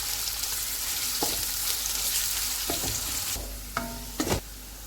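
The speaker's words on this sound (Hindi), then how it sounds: "प्याज डाल देंगे और दरमियानी आंच पे आपने इसको 2 चमचा फैला के एक जैसे गोल्डन फ्राई करने हैं" Sliced onions fry in hot oil over medium heat, a steady dense sizzle with a few spoon scrapes and stirs near the end, close and alone.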